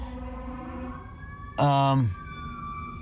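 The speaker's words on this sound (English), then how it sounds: "more sirens." An emergency siren wails briefly from some distance, a loud half-second rising-and-falling burst standing out over faint background, with a voice heard just before.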